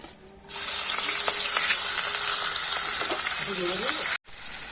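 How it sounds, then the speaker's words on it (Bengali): Washed fish coated in salt and turmeric fries in a pan, a steady bright sizzle that holds for several seconds with a short break near the end and faint clinks underneath. "মাছ আগে থেকে ধুয়ে পরিষ্কার করে রেখে দিয়েছি, নুন হলুদ মাখিয়ে এবারে ভেজে নিচ্ছি।"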